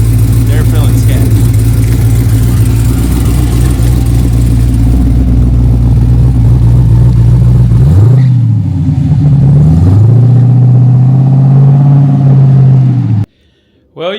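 A Chevrolet Chevelle RS muscle car engine rumbles steadily at close range while driving, revving up and down, then cuts off abruptly near the end.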